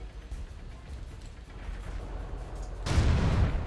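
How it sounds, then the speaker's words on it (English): Artillery fire in World of Tanks: a low, muffled rumbling backdrop, then a sudden loud blast near the end that stays heavy and booming, with no talking. "And there's the artillery."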